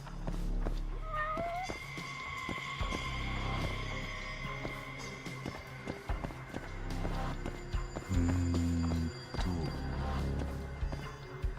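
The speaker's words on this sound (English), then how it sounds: "Where's this cat? I hear it. I hear the kitty." Cat meowing in the Judgement video game, a couple of short rising meows early on amid game ambience, sustained tones and footsteps, with a faint voice at times.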